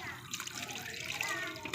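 Water splashes and gurgles as it is drained or poured out during a fishing session, a steady wet noise with people talking faintly over it.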